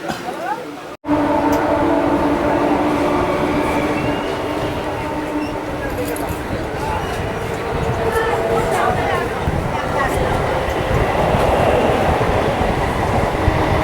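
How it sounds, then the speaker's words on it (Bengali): A Kolkata suburban local train pulls out of Bidhannagar station, a loud, close, continuous rumble of wheels and carriage noise with rhythmic rattling that holds steady throughout, a brief dropout near the start. "যাই হোক, আবার ছেড়ে দিবে ট্রেন।"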